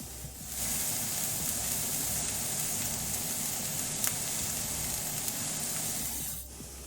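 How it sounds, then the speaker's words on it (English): Shrimp and onions sauté in a pan over high heat, giving a steady, close sizzle that holds evenly throughout, without speech. "You have the pan up pretty high for sauteing."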